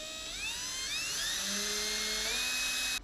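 A high-pitched whining drill grinds steadily into cast iron, its tone rising and sliding through the cut, loud and continuous with no voices.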